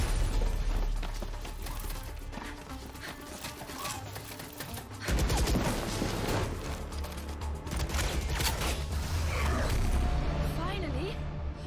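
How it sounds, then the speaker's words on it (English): Dense, continuous crackle of gunfire in the tactical shooter game Valorant, a busy barrage rolling on for the whole stretch with a louder, harsher burst partway through and a voice speaking over it. "We're picking up gunfire."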